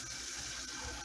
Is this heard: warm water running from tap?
yes